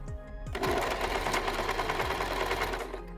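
A sewing machine runs steadily while stitching a neckline strip on a kameez, turning along the curve of the neck; a continuous close, loud mechanical whirr with rapid needle chatter and no talking.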